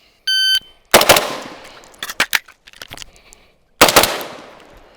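A rifle fires two sharp, loud shots about three seconds apart, the first preceded by a brief electronic beep, with metallic handling clicks from the gun between them.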